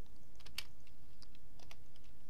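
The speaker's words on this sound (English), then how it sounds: "we just type in super user do, S-U-D-O" Keys clatter on a computer keyboard as a terminal command is typed, a quick uneven run of close, crisp clicks with one sharper keystroke, heard alone over a faint steady hum.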